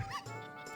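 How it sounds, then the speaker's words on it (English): A single short bark from a dog in Zelda: Ocarina of Time on the N64 rings out clearly over a faint game background hum. "Dog."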